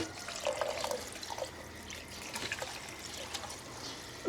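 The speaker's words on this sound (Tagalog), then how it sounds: "Lagyan natin ng tubig kasi pag di natin hugasan kakapit-kapit po yan." Tap water runs into cooked spaghetti pasta being rinsed in a kitchen sink, a soft uneven trickle and splatter with small drips throughout, fairly quiet.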